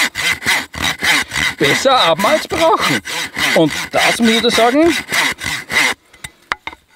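Beech wood being sawn with a Walther MSM survival machete's saw back, a steady rasping back-and-forth stroke rhythm, close and loud, with someone talking over the strokes before the sawing stops near the end.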